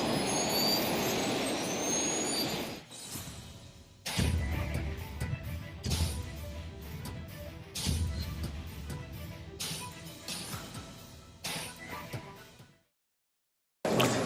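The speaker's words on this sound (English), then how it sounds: "ignition sequence start. 6, 5, 3, 2, 1, 0. All engine running." A rocket launch is heard as a loud jet-like roar of engines igniting and running, broad and sustained, broken by sharp cuts and bursts before it drops to silence near the end.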